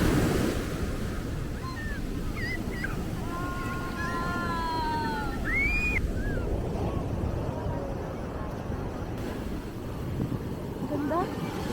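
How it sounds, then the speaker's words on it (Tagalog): Strong surf pounds a Zambales beach in a steady broadband wash of crashing waves, with wind buffeting the microphone and people talking and calling out over the roar. "Ang lakas ng alon."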